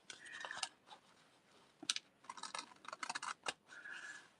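Scissors trim folded paper for a St. Patrick's Day junk journal flip folio, a run of close, crisp snipping and rustling bursts with short pauses, no talking.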